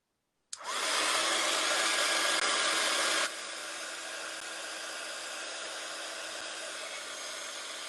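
A heat gun melting embossing powder on a photo frame blows a loud, steady rushing whir that starts abruptly, then drops to a lower setting partway through and keeps running, close by with no talk.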